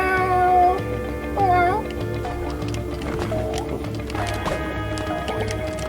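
A cat meows repeatedly in a series of rising and falling calls, fairly close and clear, over a steady low background hum and some faint voices.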